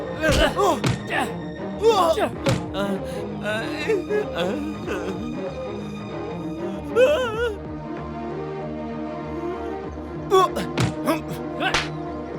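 Blows landing on a man during a fight scene in a dubbed South Indian romantic film: repeated thuds and slaps mixed with shouting and pleading voices over dramatic background music, with a sharp burst of impacts near the end.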